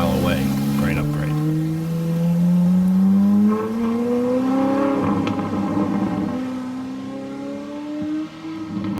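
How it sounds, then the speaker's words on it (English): A car with an upgraded exhaust revving up, its rising engine note climbing steadily and then holding in a loud, sustained roar before easing off near the end, heard fairly close. "we could hear Dan's exhaust from about a mile away."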